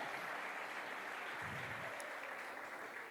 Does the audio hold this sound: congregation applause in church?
yes